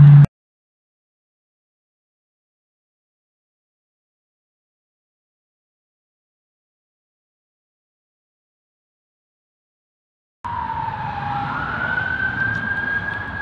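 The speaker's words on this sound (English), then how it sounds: "Ambulance." An ambulance siren wails outside from about two-thirds of the way in, a steady rising and falling tone at moderate distance over traffic noise, after a long stretch of near silence.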